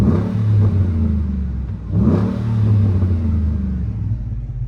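A first-generation Ford Raptor truck's 6.2-liter V8 rumbles deep and close, blipping twice with low burbling revs between steady idle-like stretches, no talking.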